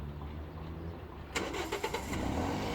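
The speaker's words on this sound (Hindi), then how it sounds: "इस बटन को हम प्रेस करके रखेंगे और ये देखें अभी गाड़ी स्टार्ट होगी।" A car engine starts via a Steelmate remote engine starter, a sudden cranking burst after a quiet stretch, then a few sputtering catches settling into a steady running rumble nearby.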